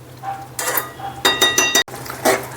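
A spoon scraping and clinking in a pan while papad curry with besan is stirred, heard as several close, bright metallic scrapes in uneven strokes over a low kitchen hum.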